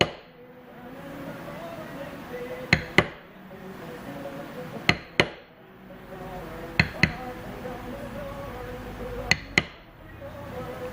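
Sharp mallet strikes on a leather beveler come in paired bursts about every two seconds during floral and leaf tooling, each crack clear over a quiet room hum with soft low background sound.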